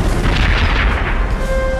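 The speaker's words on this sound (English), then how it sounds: "74 guns steadily lobbing cannonballs at Wellington's center." Napoleon's artillery at Waterloo fires a steady cannon barrage, heard as continuous loud, deep booming and rumbling with overlapping blasts and no break.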